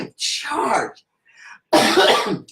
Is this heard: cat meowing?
no